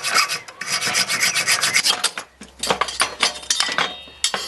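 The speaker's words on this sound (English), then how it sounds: "I'll just use a junior hacksaw because it's easy to access." Junior hacksaw cutting the arms off a washing-machine part during a pedal-power conversion, with rapid rasping strokes up close, a brief pause, then another burst of sawing.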